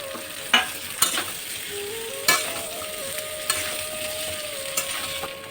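Cut potatoes fry and sizzle in a pan with a continuous hiss, punctuated by scattered clinks and scrapes of stirring, with no talking.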